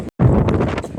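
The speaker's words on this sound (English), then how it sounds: "It's very windy, it's very wet." Strong wind buffets the microphone on the open top deck of the P&O cruise ship Arvia, a loud, broadband roar after a brief dropout, gusting steadily across the second.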